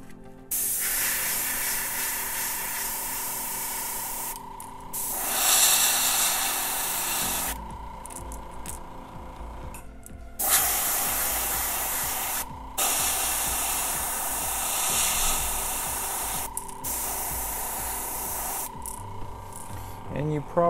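An airbrush or spray gun hisses steadily as paint is laid heavily onto a crankbait fishing lure in purple and charcoal, with the spray running in long bursts and brief pauses over about twenty seconds.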